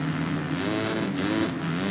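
Motocross bike engine in the MXGP3 racing game held hard in 4th gear, a steady loud buzzing rev with rising and falling pitch sweeps throughout, no talking.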